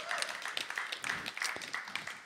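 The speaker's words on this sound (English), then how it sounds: "big round of applause to Alicia" A small crowd at a live music stream claps for a woman named Alicia, a brief burst of scattered applause at moderate distance with no speech over it.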